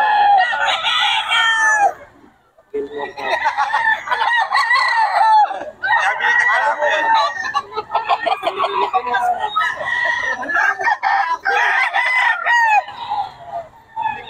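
Roosters crow repeatedly at a Bocaue cockfighting-bird market where a Gilmore Hatch gamecock is up for sale, long loud drawn-out calls following one another with brief gaps, some overlapping.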